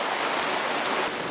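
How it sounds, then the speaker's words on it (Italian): Heavy summer downpour pours steadily on a sailboat, a dense, even hiss of rain with no pauses and no voices. "Sta piovendo di brutto."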